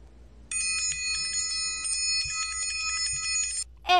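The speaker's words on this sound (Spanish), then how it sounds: "Es el instrumento triángulo. Aquí tengo el instrumento triángulo y lo voy a tocar así." A metal triangle struck once rings out with a bright, sustained shimmering tone that hangs steadily for about three seconds before stopping, followed by a brief louder sound at the very end.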